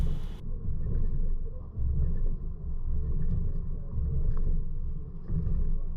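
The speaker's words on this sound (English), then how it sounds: "We'll get to the alternating speed bumps, This will simulate hitting a curb or pothole or driving over uneven pavement." A full-size truck fitted with a Kuat Huk curved tailgate bike pad rolls over alternating speed bumps, producing a steady, heavy low rumble with slight dips and surges as it works over the uneven bumps, with no talking.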